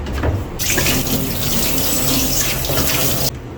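Kitchen sink tap running steadily, water splashing during washing up, close and continuous for a few seconds before cutting off.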